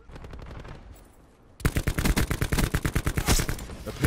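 KN57 assault rifle fired in a video game: a quieter string of shots gives way to a loud, rapid full-auto burst of evenly spaced cracks that runs to the end.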